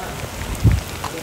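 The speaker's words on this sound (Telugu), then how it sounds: "వర్షం అనేది ఎలా పడుతుంది చూడండి." Rain falls steadily around walkers on a pilgrimage from Secunderabad to Sabarimala, an even patter with a low thump midway and a person talking over it.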